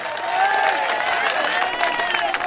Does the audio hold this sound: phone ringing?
no